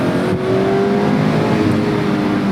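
A Mazda Miata ND2 Club's naturally aspirated engine revs hard under acceleration, with a loud, steady, close engine note and no talk.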